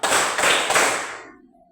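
Students in a classroom counting game clap hands together in one loud, dense burst of three quick beats that fades out over a second or so.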